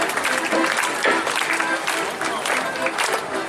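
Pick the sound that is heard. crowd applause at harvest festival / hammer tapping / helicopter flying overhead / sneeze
crowd applause at harvest festival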